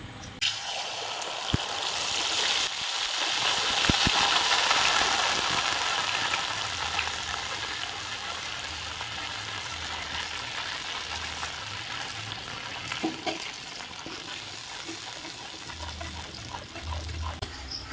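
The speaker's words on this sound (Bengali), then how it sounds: "মশলার সঙ্গে একটু জল দিয়ে নাড়িয়ে নিলাম" Water poured into spice paste and tomato paste in a pan for a banana flower kofta curry, then stirred, giving a steady close sizzle and liquid gush that gradually settles into a softer simmering hiss.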